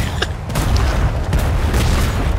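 Cannon fire booms in a naval combat video game: a sharp blast, then a couple more heavy thuds and rumbling explosions, loud and close, with no talk.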